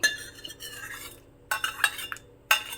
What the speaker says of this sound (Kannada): ನೋಡಿ ಇವಾಗ ಬೇಯಿಸಿರೋ ಬೇಳೆನೂ ಸಹ ನಾನು ಹಾಕ್ತಾ ಇದ್ದೀನಿ